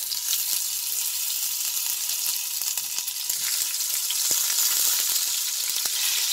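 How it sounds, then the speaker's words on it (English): Cauliflower florets dropping into smoking-hot mustard oil, setting off a loud, steady crackling sizzle with sharp pops scattered throughout, close by and with no voices. "Then slowly just drop these cauliflowers."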